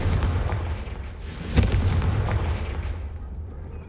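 Confringo fire spell exploding in the video game Hogwarts Legacy: a sharp booming blast in the middle of a rumbling, crackling game soundscape, fading into a dull roar.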